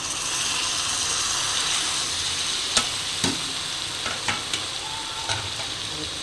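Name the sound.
stirring fried onion and eggplant bharit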